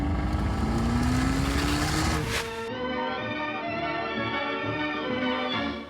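An Abarth 595 engine accelerating hard, its pitch rising through a gear, then a sharp shift and renewed climb, heard close and loud.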